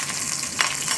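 Finely chopped ginger sautés in hot oil with mustard seeds and urad dal in a wok, giving a steady close hiss and crackle with one brief sharper pop, no voices.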